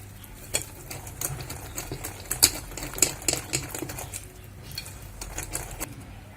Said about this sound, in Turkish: Bunları güzelce böyle çırpacağım.